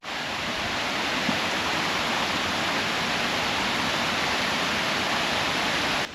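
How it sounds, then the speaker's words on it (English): Steady, full roar of Coldwater Falls in Tuscumbia, Alabama, a large man-made natural stone waterfall, broad rushing water that stays constant and loud throughout with no voices. "world's largest man-made natural stone waterfall to be known in existence"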